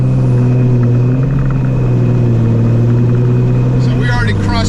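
Cummins diesel truck fitted with a WCFab S467.7 turbo runs with a loud, steady low rumble and droning engine tone, building near the end as it accelerates.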